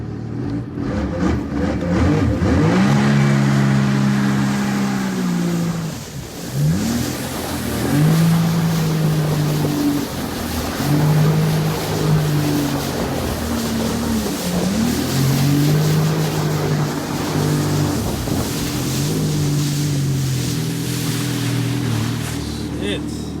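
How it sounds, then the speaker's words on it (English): A jet ski engine runs on the open ocean, loud and close, its steady drone rising and falling in pitch as the throttle changes, with water and wind noise around it and voices talking over it. "We're on a jet ski."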